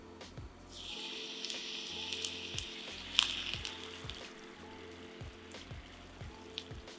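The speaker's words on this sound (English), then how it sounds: "On medium heat, we're gonna do about a tablespoon of ghee. Go in with the garlic" Garlic sizzling in about a tablespoon of ghee over medium heat, a steady soft hiss with faint crackles and a few small pops, low and continuous without talk.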